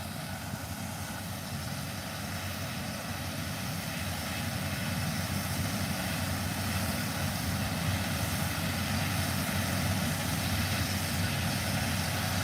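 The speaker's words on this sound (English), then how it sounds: "I want to get closer to the chopper" A helicopter sits with its rotor blades turning, giving off a steady, unbroken engine and rotor drone at moderate distance that holds for the whole stretch with no voices.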